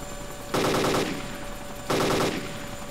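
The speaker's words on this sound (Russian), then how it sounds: "по нам стреляют" Two sustained bursts of automatic gunfire from the ArmA 2 video game, rapid rattling volleys about a second each with a gap between, loud against a steady background hum.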